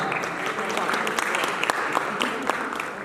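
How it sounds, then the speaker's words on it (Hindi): An audience in Hindi-speaking event applauds steadily, dense continuous clapping throughout with a faint voice underneath, fairly near and loud. "इन सब के लिए एक बार दोबारा जोरदार तालियां।"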